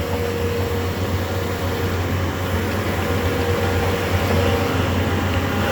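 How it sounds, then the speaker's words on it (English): HP Scitex FB700 R2000 Plus flatbed printer printing on half-inch Ultraboard, a steady mechanical hum and whir with a low drone, constant and fairly loud, no voices. "It's getting ready to print now."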